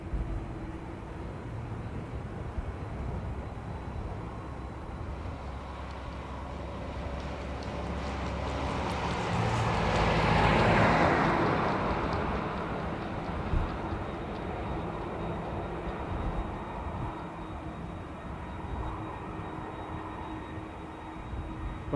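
A Qatar Boeing 787-9 Dreamliner from Doha arrives at Dublin Airport in a crosswind, a distant jet roar that swells to a peak midway and then fades slowly.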